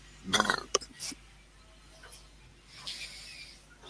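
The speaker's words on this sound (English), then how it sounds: "That burp, it sounded like he had friends." A single loud, gurgling burp erupts close up, followed by a few small clinks and some quieter noises in a workshop setting.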